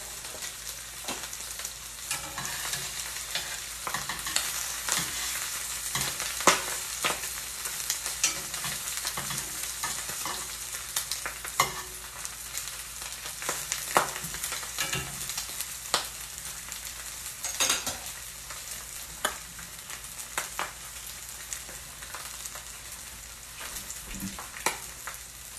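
Corned beef and provolone Reuben sandwiches sizzle steadily in a cast iron pan, a continuous close frying crackle with occasional sharper pops and stirring scrapes, no talking.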